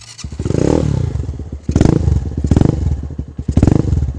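A warmed-up Lifan KP Mini motorcycle fitted with a full-system aftermarket exhaust revs loud and close, with its throttle blipped in four strong bursts that settle back between each rise, and no talk.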